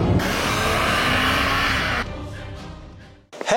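A 1990s Alpine A610 with a 3-litre single-turbo V6 of 250 horsepower roars hard under acceleration, a loud sustained engine note that cuts off abruptly, then dies away to near silence before a brief thump.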